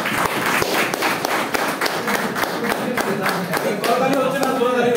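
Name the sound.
audience clapping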